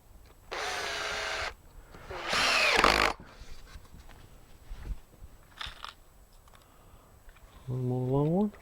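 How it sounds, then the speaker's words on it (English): A power drill pre-drilling and driving screws into wood during workbench assembly whirs in two short bursts, the second louder and rougher as it bites, followed by quieter clatter and a brief rising whine. "I like to pre-drill even if I'm using self-drilling screws."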